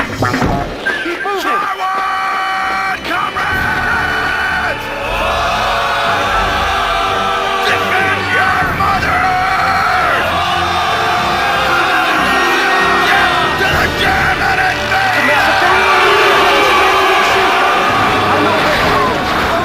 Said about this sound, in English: Hear that order being yelled from the desolate battlefields?